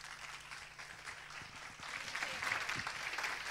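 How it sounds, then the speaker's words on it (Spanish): Audience applause after a talk about disability and inclusion, a steady wash of clapping that swells toward the end, moderately loud, with a voice faintly underneath. "Fuerte el aplauso para Miguel."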